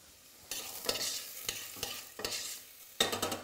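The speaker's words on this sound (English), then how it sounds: "The onions are starting to sweat down." Onions sweating in a pan, sizzling steadily up close while a utensil stirs them in sharp repeated scrapes and knocks, with no talking.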